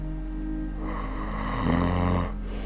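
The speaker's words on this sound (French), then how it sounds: "pris en flagrant délit, en plein gros ronflement" A sleeping man snores loudly once, a rough drawn-out rasp swelling over a constant low hum and then cutting off abruptly.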